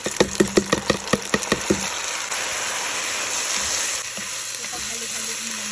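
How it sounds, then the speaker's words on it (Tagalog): Rice goes into hot oil with browned onions for an Afghan-style beef and rice casserole. A quick run of stirring clacks comes first, then a steady, loud sizzle of frying that carries on alone. "Ilalagay na natin ang ating rice."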